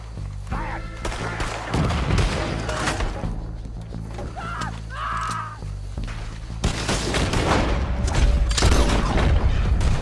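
Raiders open fire in a Wild West video game shootout, with sharp, loud gunshots and booming reports bursting repeatedly over steady music and ambient rumble, with voices shouting between volleys.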